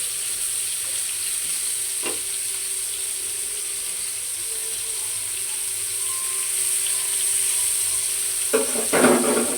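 Koi fish fry in hot oil in a pan, a soft continuous sizzle with a faint tap near the start and a couple of clattering scrapes toward the end.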